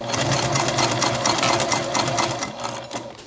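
A sewing machine basting the top edge of a shoulder bag lining, running in a fast steady whir of stitches that eases off toward the end, with no voices.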